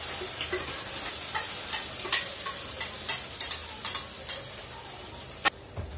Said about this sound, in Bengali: আদা পেঁয়াজ রসুন আর কাঁচা লঙ্কার যে পেস্টটা করে রেখেছিলাম সেটা ওর মধ্যে দিয়ে দেবো।